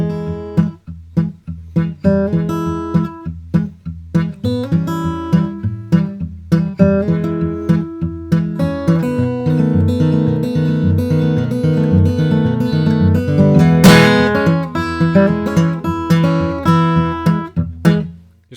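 Fingerpicked guitar plays a steady, busy pattern of bass notes and melody together, building in density toward the end before stopping.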